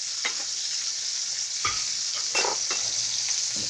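About four lightly crushed garlic cloves sizzling in a pan alongside pork chops, a constant bright frying hiss with a few clinks of a utensil stirring.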